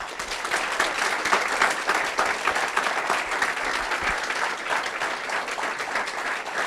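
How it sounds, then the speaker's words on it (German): An audience claps steadily in a hall to welcome a guest speaker, a dense, even applause sustained throughout with no break. "lass uns mit einem kräftigen Applaus, wirklich kräftigen Applaus, unseren Gastsprecher heute begrüßen"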